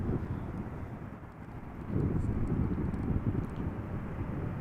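A Boeing 777 jet arrives at Amsterdam Schiphol in gusty crosswinds, its distant engine rumble swelling partway through and blending with wind buffeting the microphone.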